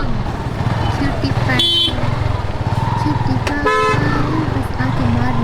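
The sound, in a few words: traffic jam with car horns honking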